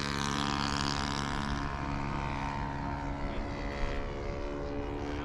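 A Hangar 9 J3 Cub model plane with a Saito FG-11 engine drones overhead in flight, a steady buzzing propeller note that stays loud and constant throughout with no talk.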